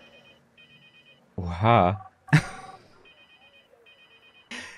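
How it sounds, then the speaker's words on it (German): A telephone rings with a repeated electronic trill, said to come from inside a dinosaur's belly in Jurassic World Evolution 2; the short bursts repeat between louder creature sounds and a brief spoken exclamation. "Das könnte ja sein, dass der einen Menschen gegessen hat und das Telefon im Bauch klingelt."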